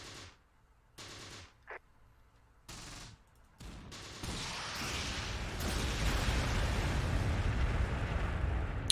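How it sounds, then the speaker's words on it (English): A naval artillery barrage in the WWII strategy game Close Combat: The Bloody First arrives first as short separate bursts, then swells into a loud, continuous rumbling roar of distant explosions. "so we do have a barrage coming down. Oh, that'd be naval fire"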